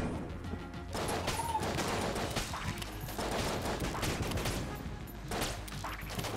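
Rapid video game gunfire in Enter the Gungeon, a steady dense barrage of shots and impact crashes with bursts that continue without a pause.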